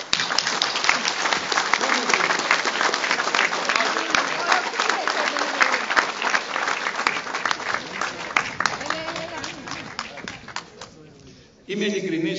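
A seated audience gives warm, sustained applause at a speech in a senior citizens' community centre, with dense steady clapping and murmuring that fades toward the end before a speaking voice resumes.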